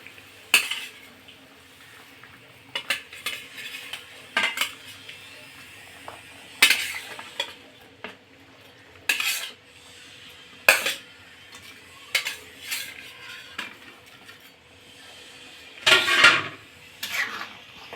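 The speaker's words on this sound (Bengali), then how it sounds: "তো ঝোলটা ফুটে গেছে, এবার একে একে করে আমি মাছটা ছেড়ে দিব।" Tilapia pieces go one by one into a simmering mustard curry in a pan, bringing repeated clinks and scrapes of utensils against the cookware with a faint bubbling beneath, and no talk.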